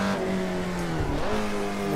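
Engine revving in Assetto Corsa, an old-school pony car racing at Laguna Seca, a steady close harmonic drone that dips and climbs briefly as revs shift, with no talk over it.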